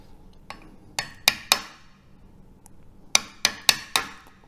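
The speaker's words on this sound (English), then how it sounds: "Whatever I cannot chisel away, I have to sand away." Chisel struck with a hammer while shaping material for a DIY crystal radio, giving sharp, ringing taps in two groups of three or four close-up blows separated by a short pause.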